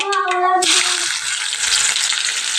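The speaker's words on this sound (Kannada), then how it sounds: "ಜೀರಿಗೆ ಚಟಪಟಿಂದ ಉಳ್ಳಾಗಡ್ಡಿ ಹಾಕ್ಬೇಕು" Onion goes into hot oil with crackling cumin seeds and sets off a loud, sudden sizzle that keeps hissing strongly. A brief voice comes just before it.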